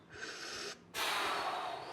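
Heavy, forceful breaths from a person during a HIIT workout, a sharp exhale then a longer gusty breath, close and loud with no talking.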